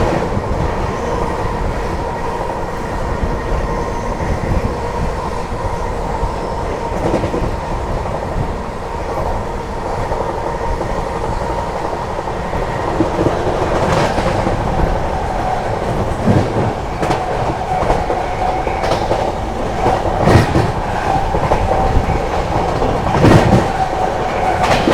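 The 12417 Prayagraj Express runs at speed through Makhanpur station, a loud continuous rumble of wheels with rhythmic clickety-clack over rail joints and occasional sharp squeals, heard from inside the train.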